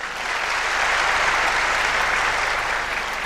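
Loud, sustained applause from a large audience at a Pakistan Air Force show, steady and dense throughout with no voices over it.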